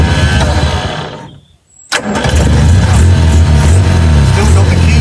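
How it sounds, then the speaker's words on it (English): A Land Rover engine winds down to near silence, then cranks and catches with a sharp burst, settling into a loud, rough, close running idle while the key is held on the starter. "if I leave the key on starter, the engine should run"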